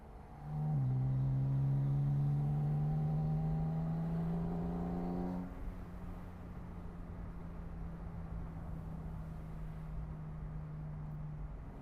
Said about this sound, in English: How awesome it is that you can hear this engine the entire time